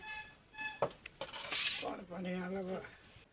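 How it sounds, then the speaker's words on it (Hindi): Pots and dishes are washed in a rural home kitchen, with close metallic clinks and clatters and a scrubbing rush, interrupted by brief bits of talk. "अभी खाना पीना खा करके बर्तन वगैरह धो करके अच्छी तरह से रख लिए"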